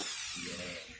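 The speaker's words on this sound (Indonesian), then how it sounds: "saya akan melakukan pengamplasan lagi pada bagian ini" Sanding a starter clutch bell part from a Yamaha Jupiter motorcycle, a brief harsh abrasive hiss close up with no talk.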